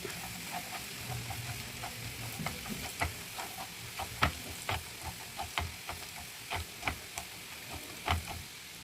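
Shrimp frying in garlic butter in a pan, a steady close-up sizzle broken by frequent irregular pops and crackles, alone with no talk.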